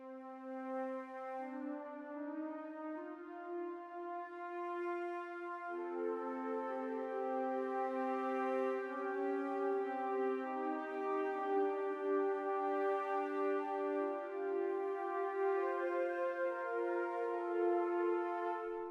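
Spitfire Audio Albion V wind bursts sample holds long, steady, layered woodwind chords that move through a few changes over nineteen seconds, smooth and sustained with soft breath texture and no talking.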